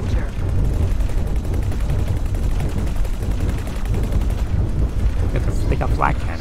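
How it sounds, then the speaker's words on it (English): Flak cannon fire in the space game X4: Foundations, a dense, continuous rattle of rapid bursts with booming low rumble, steady and loud throughout with no pauses. "They got flak cannons."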